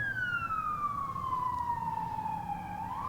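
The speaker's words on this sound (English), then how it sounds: "Sirens." A siren wails outside, one long descending tone that slides down steadily, moderately distant over a low background rumble.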